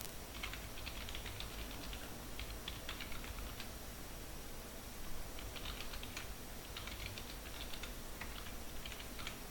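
Steady keystrokes patter on a computer keyboard while C code is written, quiet and close, in uneven bursts of rapid typing separated by short pauses.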